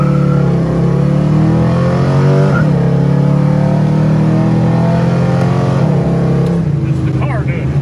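A 1973 Z-28 Rally Sport Camaro accelerates hard, its engine roaring loudly and climbing in pitch, with a dip around a gear change. Someone talks over the engine noise.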